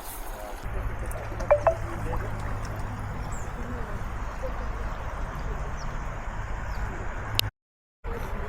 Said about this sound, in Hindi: किले का पानी वहाँ से बंद तोड़ते हुए इस खेत की तरफ जा रहा है